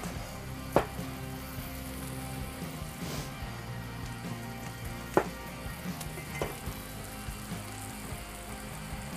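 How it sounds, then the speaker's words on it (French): Onions grill directly over a hot outdoor grill, giving a steady soft sizzle and crackle. Scattered louder pops and spits break through now and then. "En attendant qu'on fasse griller nos oignons ici."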